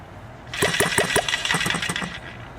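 An HM-01 kit small engine, its choke set a few notches closed, sputters and pops in an uneven run of firing bursts after a moment of quiet, close and fairly loud with no talk.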